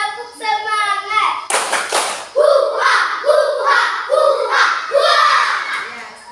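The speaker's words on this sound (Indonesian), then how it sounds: "Tepuk semangat buat kita supaya tetap semangat." A second-grade elementary class performs a rhythmic spirit clap, with a burst of sharp group clapping followed by evenly spaced chanted beats from the children. The sound is close and lively, and a teacher's voice comes before it.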